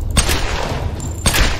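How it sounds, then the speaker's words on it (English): Gunfire in the Tomb Raider video game rings out as two sharp loud bursts about a second apart, each a booming crack over a low rumbling game background. "I'm taking fire."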